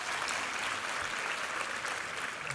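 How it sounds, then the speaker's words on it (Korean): A church congregation applauds during a worship service, a dense, even wash of clapping from a large room that holds steady without a break. "우리 하나님께 감사와 영광의 박수 올려드리겠습니다"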